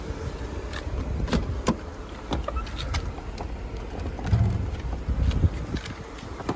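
A 1994 Mercedes-Benz E320 convertible engine idles with the hood open, a low, steady rumble heard nearby with scattered light clicks and handling noises over it.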